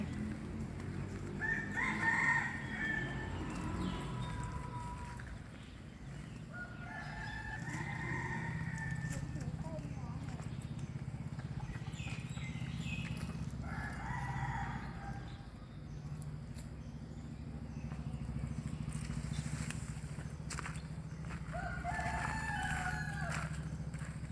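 Several bantam roosters crow in turn at a moderate distance, with low background rumble and occasional faint voices in between.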